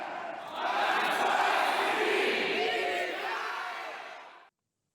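A large stage crowd of over 1,000 Passion Play actors at Oberammergau shouts together in a swelling roar that builds, holds, then cuts off abruptly.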